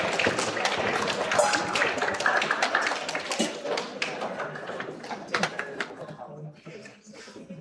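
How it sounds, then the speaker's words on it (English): A spoken word poetry finals audience breaks into loud, dense applause for a grade 9–10 poet, the crackling claps tapering off toward the end. "Applaud the poet,"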